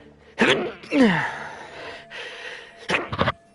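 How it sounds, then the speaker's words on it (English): A sneeze attempt by a character in the game Lost Judgment, with a sharp intake of breath, a drawn-out strained buildup, then a burst of quick snorting exhalations. "Ignoring my nose as I'm trying to sneeze."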